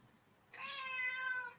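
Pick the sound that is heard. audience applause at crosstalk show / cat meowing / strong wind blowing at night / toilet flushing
cat meowing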